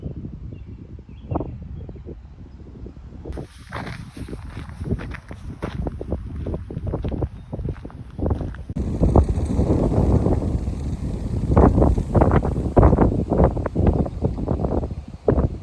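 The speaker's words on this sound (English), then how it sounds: "but it's literally so windy" Strong gusts buffet the microphone with rumbling, thumping wind noise that grows louder and rougher toward the end.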